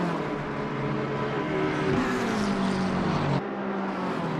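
Race car engines roaring at Spa in a multi-class sim racing video game, a loud sustained engine drone with rising and falling pitch as cars pass, cutting off abruptly near the end.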